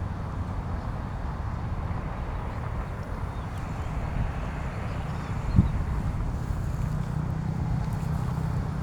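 Wind blows steadily outdoors, a continuous low rumbling rush across the microphone with no breaks, moderately loud and unchanging throughout.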